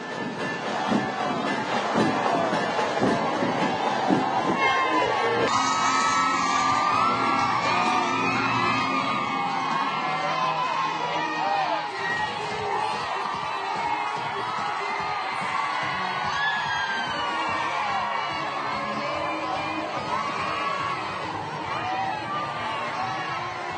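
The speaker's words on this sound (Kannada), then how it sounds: "ರಸ್ತೆಯ ಇಕ್ಕೆಲೆಗಳಲ್ಲಿ ತ್ರಿವರ್ಣ ಧ್ವಜ ಹಿಡಿದು ಜನ ಹರ್ಷೋದ್ಗಾರ ಮಾಡ್ತಾ ಮೋದಿ ಅವರನ್ನ ಬರಮಾಡ್ಕೊಳ್ತಾ ಇದ್ದಾರೆ." Dense crowd lining the roadside along PM Modi's roadshow route in Vadodara, cheering and whooping continuously with scattered yells, loud and close, mixed with a vehicle's rumble, shifting into a brighter, busier roar partway through.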